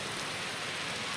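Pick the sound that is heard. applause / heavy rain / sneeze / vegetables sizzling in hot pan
heavy rain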